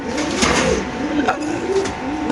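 Pigeons coo close by at a pigeon farm, with several soft, throaty calls overlapping in the cages and a brisk background murmur.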